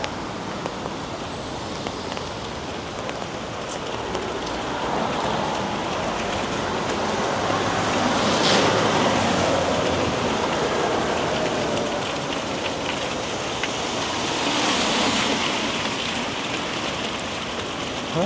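Heavy downpour on a downtown Toronto street, a steady dense hiss of rain hitting pavement and surfaces that swells in intensity around the middle and again near the end, continuous and close with no talking.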